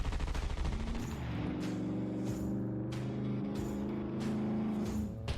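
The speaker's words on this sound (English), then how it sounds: "All passengers can now even lean inside and outside for a better view during a drive-by shooting." A drive-by shooting from a moving car in the SCUM video game: rapid bursts of gunfire crack repeatedly over a steady, droning car engine, loud and close throughout.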